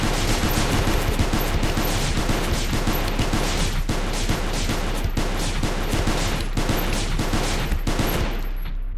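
L6 SAW machine gun firing continuously in Space Station 14, a long sustained burst of rapid, loud, evenly spaced shots filling the whole stretch with no talk.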